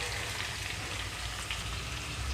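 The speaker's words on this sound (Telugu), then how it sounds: "ఇప్పుడు ఇందులోకి కట్ చేసి పెట్టుకున్న టమాటో వేస్తున్నాను అలాగే దోసకాయ ముక్కలు కూడా" Chopped tomatoes and yellow cucumber pieces, seeds left in, sizzle steadily in a pan for a mutton curry, a continuous close hiss of frying with no talk.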